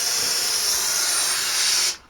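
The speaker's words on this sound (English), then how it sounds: "I'm in here with my Wagner power steamer after my canister" Close, continuous hiss of a Wagner power steamer blasting steam into a car's battery area, holding steady before cutting off abruptly near the end.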